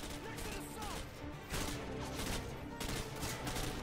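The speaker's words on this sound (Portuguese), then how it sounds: "tomei um tiro de sniper" Loud bursts of Call of Duty: Modern Warfare 2 gunfire, including a sniper shot, and crashing impacts in a frozen prison map, layered and dense throughout, with some voice chatter mixed in.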